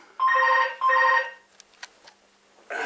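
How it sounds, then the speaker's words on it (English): Telephone ringing during a Q&A chat, two clear electronic ring bursts in quick succession, loud and close, followed by a few faint clicks and a louder noisy burst at the end. "sorry about the phone going off there."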